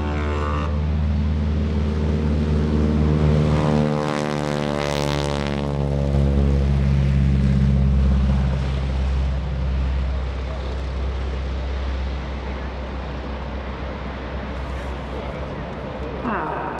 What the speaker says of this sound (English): That's a Pratt & Whitney, R as in radial. 1340 engine in that.